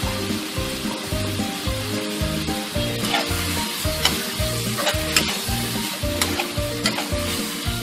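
Mixed seafood stir-fried with holy basil in a hot pan, loud continuous sizzling with a steady rhythmic scrape-and-toss of the spatula roughly every half second, close up and without voices.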